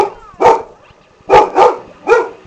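A dog named Star barks four times in short sharp bursts, a single bark followed by a close pair and then one more, loud and near with brief quiet gaps between.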